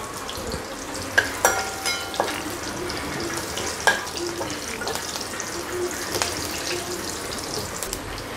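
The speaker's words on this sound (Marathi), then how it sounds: "चिली फ्लेक्स आणि आता आपण हलवून घेऊया" Chili flakes stirred in a pan on a very low gas flame give a steady soft sizzle, with intermittent scraping and clinking strokes of the spoon rising above it. No one speaks.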